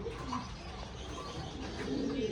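Soft, steady cooing of pigeons at a market stall selling high-quality pigeons, a low continuous murmur with no talk over it.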